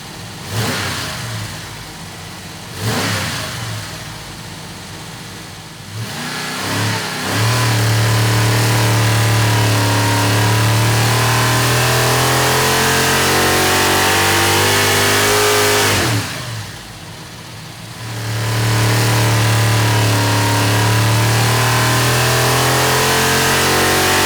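A built 427 cubic-inch small-block V8 with a Vortech supercharger roars on a dyno, loud and close, in two long wide-open pulls with droning steady tones, each followed by a drop back to a rough idle.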